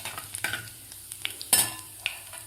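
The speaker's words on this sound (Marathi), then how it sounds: "जिरे आणि मोहरी आपल्याला व्यवस्थित फुलू द्यायचे आहे." Mustard seeds and cumin crackle in hot oil in a pan, with a soft sizzle broken by sharp pops and a spoon stirring, heard close and without speech.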